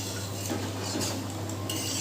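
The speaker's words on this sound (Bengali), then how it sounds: "জলটা দিয়ে খুব ভালো করে মশলার সাথে মিশিয়ে নেব।" Water stirred into spice masala in a pot for Boal fish curry gives a continuous wet scraping and sloshing with a faint sizzle, alone and steady throughout.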